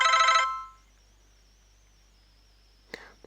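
A Motorola V8 mobile phone plays a short ringtone burst of bright, electronic chiming tones in a quiet room. A thin tone lingers briefly before a faint click.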